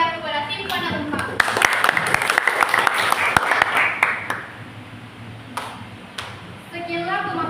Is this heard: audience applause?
yes